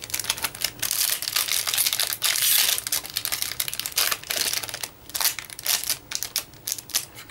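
A foil trading card booster pack from the AP02 set is torn open by hand, giving close, crisp crinkling and rapid tearing clicks that come in uneven bursts with short pauses, and no one speaking.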